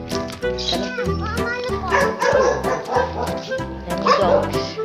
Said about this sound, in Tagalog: Dami dogs.